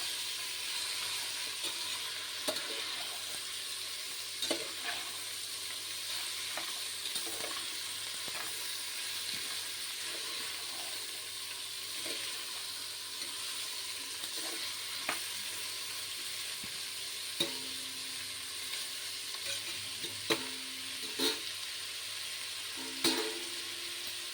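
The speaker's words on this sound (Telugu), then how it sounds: "ఇప్పుడు ముందుగా మనం రెడీ చేసుకుని ఉంచుకున్న కూరగాయ ముక్కలన్నీ కూడా వేసి వేయించాలి." Chopped vegetables for vegetable biryani frying in a pan, a continuous soft sizzle and hiss with occasional clicks and scrapes of stirring, heard alone with no talk.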